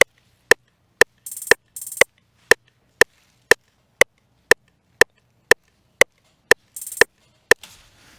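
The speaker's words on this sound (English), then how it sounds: "I also went and added another hi-hat roll." Sparse trap beat: evenly spaced sharp hits roughly twice a second, with brief rapid hi-hat rolls buzzing between a few of them, played alone and clean.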